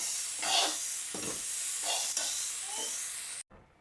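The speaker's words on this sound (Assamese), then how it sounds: "এতিয়া মই পিঁয়াজ আদা নহৰু আৰু এয়া বইল বুটখিনি দি দিছোঁ" Onion, ginger, garlic and boiled chickpeas sizzle in a hot pan, a steady loud hiss with stirring scrapes swelling and easing, cutting off abruptly near the end.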